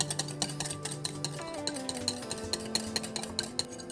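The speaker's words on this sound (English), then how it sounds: "You add yolks and mix thoroughly." Egg yolks for a steamed puto flan are mixed in a bowl, a utensil clinking and scraping against the sides in a quick steady rhythm, close and clear with no talking.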